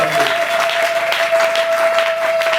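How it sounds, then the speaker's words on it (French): A church congregation applauds loudly and steadily during a Sunday worship service, a dense wash of clapping that carries on throughout with a sustained tone ringing beneath it. "Acclame très fort."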